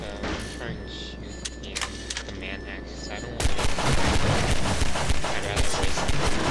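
Video game gunfire from Half-Life 2 erupts in a dense, loud burst of shots partway through, after a quieter stretch of game ambience.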